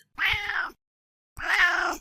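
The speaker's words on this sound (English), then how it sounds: "And then he started meowing." A cat meows twice, close and fairly loud, each drawn-out cry separated by a short silence.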